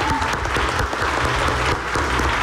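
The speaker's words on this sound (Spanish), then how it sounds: "De veras quiero pedir un aplauso muy grande para la familia Villarreal" A crowd claps steadily and enthusiastically, a dense wash of applause that holds throughout.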